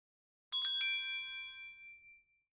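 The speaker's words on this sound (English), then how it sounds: "There's a performance effects bells, single hits." Synthesizer bell patch played as single hits: three quick bright metallic strikes in a row, ringing out with a shimmering tail that fades over about a second and a half, alone and clear.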